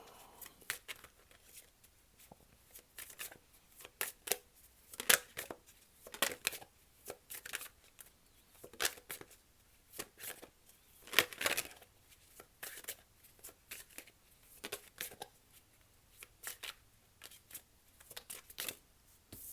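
Tarot cards shuffled by hand for a reading, a long run of quiet riffling and slapping bursts at irregular intervals, close but faint, with no talking.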